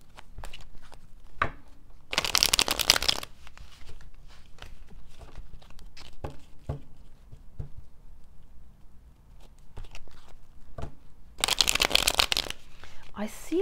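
A tarot card deck being shuffled in two brisk, loud bursts, one early and one near the end, with quieter handling and soft rustles between them.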